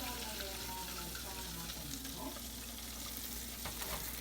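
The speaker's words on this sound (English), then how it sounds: "we're frying it 2 times" Steady broadband sizzle of swai fish frying in hot oil, continuous and close, with faint clinks and no voices.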